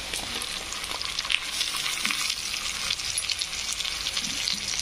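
Tomatoes fry in a pan for a potato curry, giving a steady, close sizzling hiss with faint crackles and a few soft stirring sounds, no voices over it.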